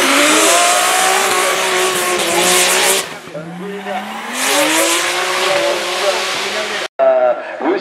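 A BMW E46 drift car fitted with an M30 engine screams through a drift at a French drift championship round at Calmont, engine wailing and tires squealing loudly, with a brief lift and cut before the roar returns.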